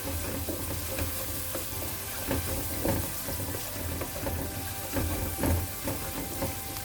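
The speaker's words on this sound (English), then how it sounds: "Chopped onions, give it a little stir. Yeah, let's caramelize that in." Chopped onions sizzle and caramelize in a pan for Jamaican-style shrimp alfredo, with a loud, dense, steady frying hiss and scattered crackles and scraping stirs close up. No one talks.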